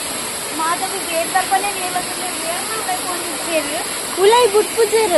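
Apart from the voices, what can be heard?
waterfall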